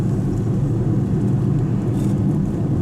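A 2024 BMW X5 xDrive40i SUV pushed hard through a corner, its steady low engine and road rumble loud and continuous throughout.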